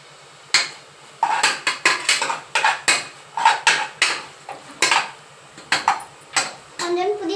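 Ladle or spoon scraping and knocking against a metal pot while chicken biryani with turmeric is stirred, a close, irregular series of sharp clanks and scrapes with brief pauses between strokes.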